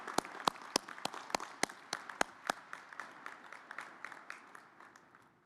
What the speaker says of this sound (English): Let's give another round of applause to Karen Berg on that wonderful rendition of our national anthem.